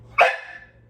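A pet dog in a cage lets out a single sharp, loud bark close by that fades quickly into a quiet room.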